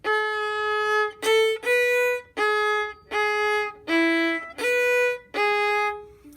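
A solo violin plays a short fiddle tune, eight bowed notes of fairly even length with brief gaps between them, clear and close with no talking.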